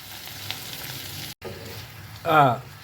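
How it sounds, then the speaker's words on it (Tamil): Tomatoes sauté in a hot pan with onions, giving a steady close sizzle, briefly cut off, then a louder hiss as more goes into the pan. "வெந்தோடனே தக்காளி எடுத்து போடுறோம், சரியா? தக்காளி நல்லா வணங்கட்டும்."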